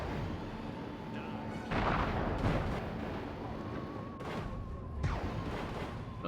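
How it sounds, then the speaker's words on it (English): Gunfire and explosive booms from missiles fired at the player in the Destroy All Humans (2020) video game, with repeated blasts and a sustained rumble of combat, loud and dense throughout. "Stop shooting fucking missiles at me"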